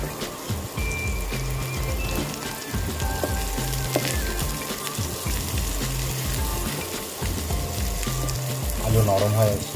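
Onion frying in a pan with softened potato for a potato momo filling, a steady close sizzle and crackle throughout, with some voice briefly heard beneath it.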